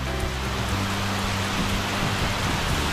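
Steady rain from Typhoon Pepito pours down in a dense, even hiss close by, with a low rumble running underneath and no voices.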